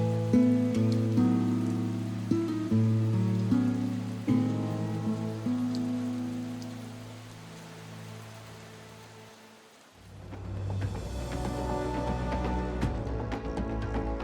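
Rain and wind in the Australian Snowy Mountains make a steady hissing patter that swells and fades, with sustained musical tones layered over it.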